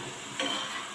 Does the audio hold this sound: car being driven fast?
no